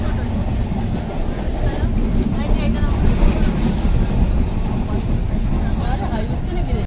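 A passenger train runs between stations, heard from inside as a loud, constant rumbling roar with clattering noise throughout and faint voices mixed in.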